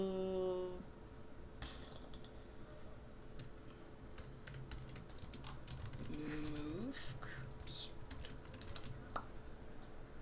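Typing on a computer keyboard, a run of quick, light key clicks in uneven bursts, close and fairly quiet, with short tonal beeps and a voice briefly humming along.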